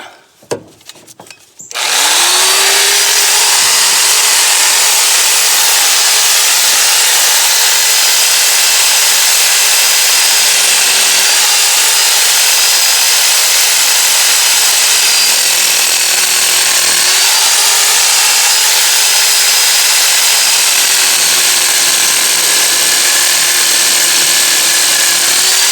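Power saw cutting through heavy electrical service cable for a meter-to-breaker-panel hookup, a loud continuous high-pitched whine running steadily for over twenty seconds with slight pitch dips as the blade bites.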